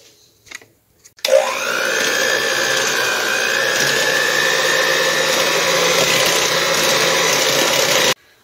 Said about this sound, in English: I'm going to take my electric mixer and mix it up until it's light and fluffy